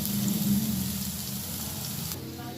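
Chopped onion, green chili and ginger fry in a pan, a steady close sizzle with a faint low hum underneath.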